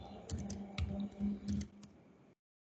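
Rapid keystrokes on a computer keyboard while TypeScript code is typed, clustered in short bursts of clicks, close and moderately loud, stopping abruptly near the end.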